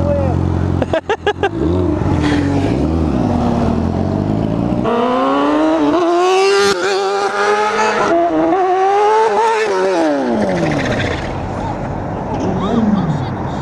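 A car is revved at full throttle in first gear for a wheelie stunt at a street stunt spot, the engine screaming through rising and falling pitch sweeps with tire squeal, loud and close, with people talking and shouting over it.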